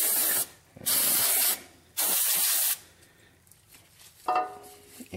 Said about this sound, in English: Hose it off.